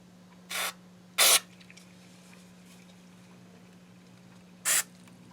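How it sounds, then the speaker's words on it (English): Three short hissing bursts of contact cleaner sprayed into an Ibanez guitar's potentiometers, two close together and one after a pause, over a quiet steady hum. "Spray out the potentiometers."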